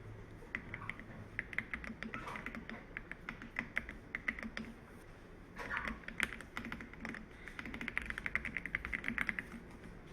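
Rapid clicking keystrokes on a computer keyboard, including the Ctrl+F10 shortcut, come in close, quiet bursts and runs with short pauses between them.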